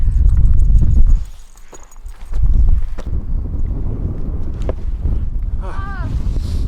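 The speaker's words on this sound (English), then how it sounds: "It is extremely cold and extremely windy up here." Strong wind on a cold mountain near the summit buffeting the microphone in heavy low rumbling gusts, with a voice speaking briefly amid the roar.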